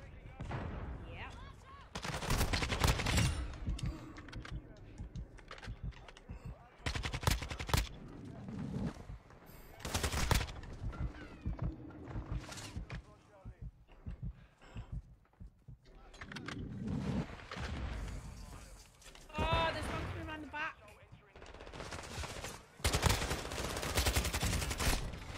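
Gunfire rattles in a video game shooter, bursts of rapid automatic shots and single reports arriving in irregular clusters, loud and sharp, with quiet gaps between exchanges.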